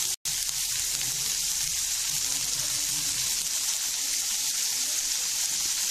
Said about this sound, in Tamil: இப்போ வெங்காயத்தை போட்டு வதக்கிக்கலாம்